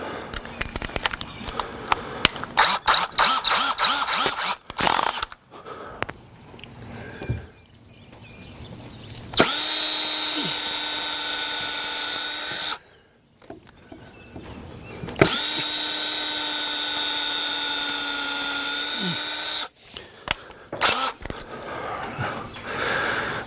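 An electric drill whines in two sustained, loud bursts of a few seconds each, with clicking and clattering handling noises before and between them.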